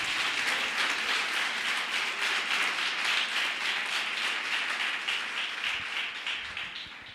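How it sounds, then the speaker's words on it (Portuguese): Congregation applauding in a church during a sermon, a sustained dense wash of many hands clapping that holds steady for several seconds, then begins to taper toward the end. "você pode aplaudir ao Deus eterno."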